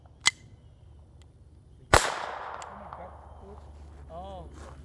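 Two sharp .22 LR rifle gunshots ring out outdoors, a short crack followed by a louder report with a trailing echo, while voices talk faintly nearby.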